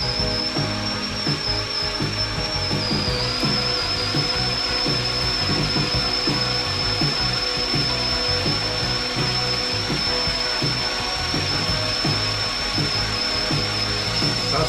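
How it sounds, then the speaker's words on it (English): A drill runs steadily to prime the oil system of a hobby stock racing engine build, a continuous loud whirring drone with no pauses. "So I'm gonna go ahead and prime this system up"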